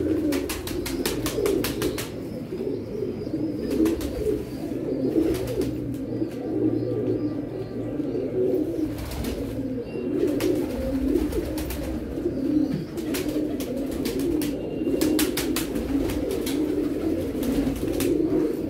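Pigeons coo steadily and continuously at close range, a layered chorus of paired birds at morning with occasional chirps and wing flutters over them.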